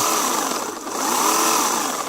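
AL-KO CS 1825 cordless battery chainsaw running with its battery nearly drained, a loud, close, steady electric whine with a slight dip in the middle, no speech.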